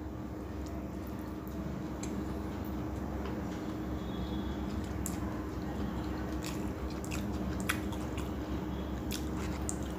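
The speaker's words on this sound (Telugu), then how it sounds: "ఫస్ట్ బిర్యానీ టేస్ట్ చేద్దాం" Close, soft chewing of mutton and basmati rice biryani, steady squishy mouth sounds over a low background hum, with no talking.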